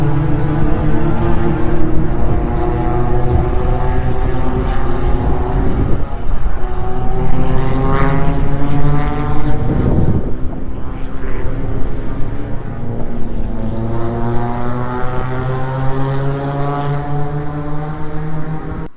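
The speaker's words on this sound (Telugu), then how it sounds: "బండ్లు అయితే ప్రాక్టీస్ సెషన్ అనుకుంటా నడుస్తున్నాయి" Race cars lapping a large circuit at Dubai Autodrome during a practice session, a steady loud engine drone with harmonic whine rising and falling as cars pass, continuous for the whole stretch with no talk.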